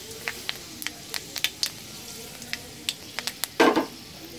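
Fenugreek and fennel seeds frying in oil in a pan, as scattered crisp pops and crackles over a low hiss, ending in a louder spitting burst, no talking.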